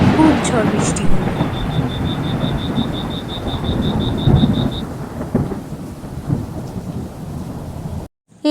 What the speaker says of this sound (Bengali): সেদিন রাতে খুব ঝড় বৃষ্টি হলো।